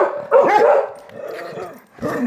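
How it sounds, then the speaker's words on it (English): A dog barks loudly and close by, giving a few sharp barks separated by short pauses, with no talk. "Please don't start barking at random people crossing by on the street."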